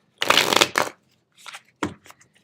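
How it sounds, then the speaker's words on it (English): A deck of Lightseer's Tarot cards being shuffled close up: a loud riffling burst, then a pause and a few shorter, sharper shuffles and taps. "I'm shuffling."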